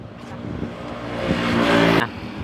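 A 2011 Toyota Altis running on gas and being driven: a close engine drone that swells and rises in pitch, then drops off suddenly near the end.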